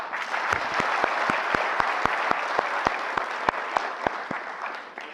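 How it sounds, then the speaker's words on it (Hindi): Audience at a national workshop on Aadhaar services clapping for themselves, a steady wave of applause from a room crowd with sharp individual claps standing out, sustained for several seconds and fading slightly at the end. "एक बार आप लोग अपने लिए ताली कर लो।"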